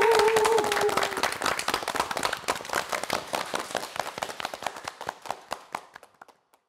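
An audience at a live television morning show claps for a male choir of dentists, first dense and lively, then thinning into scattered individual claps that fade to silence.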